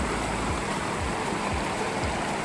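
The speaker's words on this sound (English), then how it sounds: "It's just a nameless little creek, flowing nicely though." A small nameless mountain creek on a trail in Glacier flows with a steady, close, rushing wash of water, broadband and unbroken throughout.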